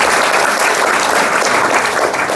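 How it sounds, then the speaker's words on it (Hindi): Loud, dense applause from a large crowd at a spiritual gathering, a continuous roar of clapping close by with no gaps. "ये लगे हो तो एक बार ताली बजाओ अपने लिए।"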